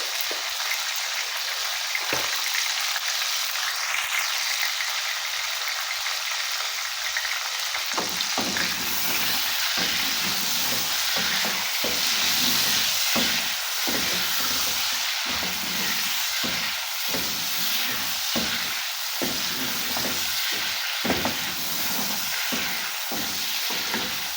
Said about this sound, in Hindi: अब ये इस तरह से ऑयल में थोड़ी देर हम इनको फ्राई करेंगे